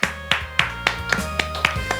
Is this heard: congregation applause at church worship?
yes